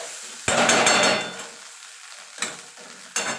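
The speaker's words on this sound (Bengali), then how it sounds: "এখানে আমি তিনটে শুকনো লঙ্কা ভেজে ডোলে দিয়ে দিলাম" Three dried red chillies fry in a pan of oil, giving a bright burst of sizzling and stirring that fades, then two short scraping stirs, close and alone with no talk.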